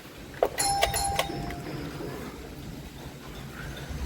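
A doorbell rings indoors, a few bright electronic chime tones in quick succession, followed by a quiet room with faint background noise.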